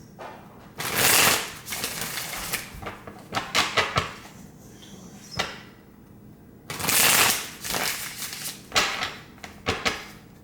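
A deck of tarot cards is shuffled up close, giving two loud riffling bursts with softer flicking and tapping of cards in between.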